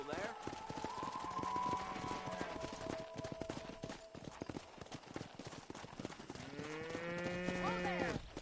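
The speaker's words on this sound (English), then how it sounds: "let's see if you can herd cows as well as you can charm humanity" Cattle lowing in the Western video game Red Dead Redemption, several long moos drawn out near the start and again near the end over steady clip-clop of horse hooves and ranch ambience.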